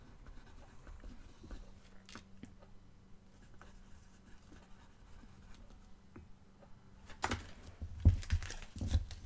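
A pen scratches out a short handwritten note at a tarot card reading table, faint and close, with soft paper and card handling growing louder toward the end.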